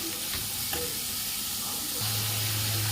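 Onions frying in a pan for a beef gravy give a constant close hiss of sizzling oil with faint stirring scrapes, steady and unbroken for the whole stretch.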